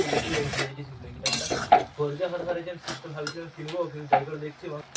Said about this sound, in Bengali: একটু নাড়াচাড়া করে বাঁধাকপিটা একটু ম্যাশ করে নিচ্ছি এইভাবে